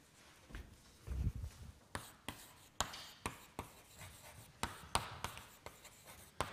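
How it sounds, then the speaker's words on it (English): Equations are written by hand on a board in a steady run of sharp, scratchy strokes, each short and distinct, close by and with no talking. "so let's write it down again"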